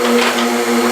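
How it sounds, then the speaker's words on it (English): Blender running on low while mixing a high-protein cheesecake batter, a steady close motor whine with a humming tone lasting under a second. "So we're gonna put our blender on low."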